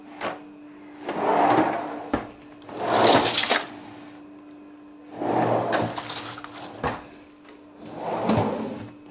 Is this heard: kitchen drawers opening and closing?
yes